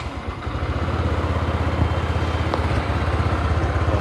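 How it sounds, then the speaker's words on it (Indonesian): An old Honda Vario 125 scooter engine idles steadily up close, a rapid even putter with light mechanical clatter, running alone with no voices. "Oke, ini sudah nyala ya kawan"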